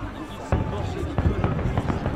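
Fireworks popping and crackling during a celebration in Assassin's Creed Unity, a few sharp bursts over a steady crowd-like bed with voices talking throughout.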